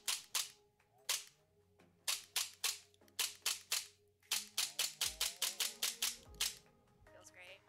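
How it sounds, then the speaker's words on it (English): Hi-Capa airsoft pistol with an upgraded, freshly lubricated action, dry fired over and over: a long series of sharp, close mechanical snaps, first in small clusters and then in a rapid run, with faint background hum between. "So let's just dry fire it a couple more times."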